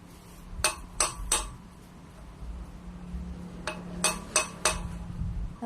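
Two quick bursts of three sharp metallic hammer strikes each, a hammer driving a wheel bearing into its seat, ringing hits on metal with a short pause between the groups.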